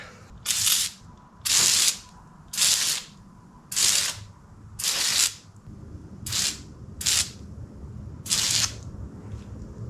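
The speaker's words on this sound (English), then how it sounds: "we're gonna have to go ahead and hit it with the degreaser" Degreaser sprayed onto parts from a 1985 Yamaha motorcycle during a teardown, heard as eight short hissing bursts about a second apart, close and fairly loud, with quiet handling noise between them.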